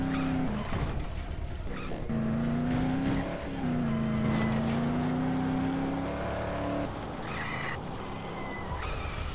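Red truck driving in the zombie game Dead Island: a steady engine drone that rises and falls in pitch, with tire noise and a brief engine drop near the end, loud and close with no talk.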